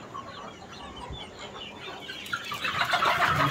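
Chickens clucking inside a poultry farm, a busy overlapping chorus of close clucks that grows louder and more agitated toward the end.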